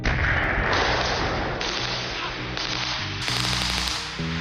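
An explosion recorded at a Finnish firing range opens with a loud sharp blast, then trails into a dense, noisy rumble that holds for several seconds.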